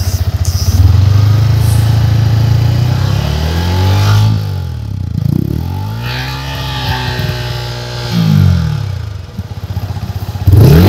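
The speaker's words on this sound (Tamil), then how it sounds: "எக்ஸாஸ்ட் நோட் கேட்டிருப்பீங்க." A 2025 Yamaha MT-15 motorcycle idles with a steady low exhaust burble, then blips its throttle in several rising and falling revs before settling, loud and close with no talking.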